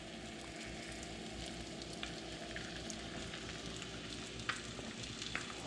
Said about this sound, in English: Once our butter is hot, we are going to throw these babies in there.